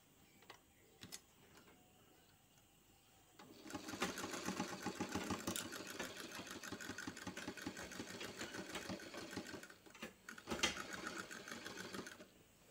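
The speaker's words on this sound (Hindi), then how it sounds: "अब मशीन पे हम सिलाने जा रहे हैं।" A sewing machine runs in steady bursts while stitching along marked seams on pant legs, taking in a loose old pant to make it slim. It starts after a quiet lead-in and hums continuously with brief pauses, close and fairly loud.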